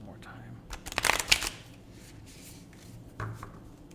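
A couple of quick bursts of tarot cards being riffled close by, papery and crisp, separated by near silence with faint background noise.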